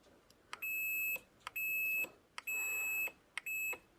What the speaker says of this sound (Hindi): उसके बाद आपने पावर बटन प्रेस करना है। जैसे प्रेस करेंगे तो यहाँ पर बजर बजने